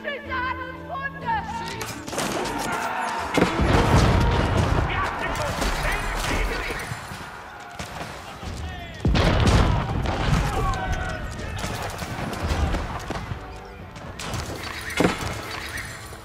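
Battle in the video game Age of Empires IV: dense crackling gunfire volleys, crashes and booms roll continuously, with game voices mixed into the clamor.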